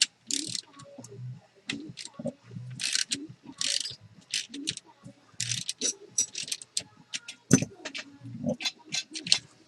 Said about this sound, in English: So I'm going to use a little wrench and Allen key.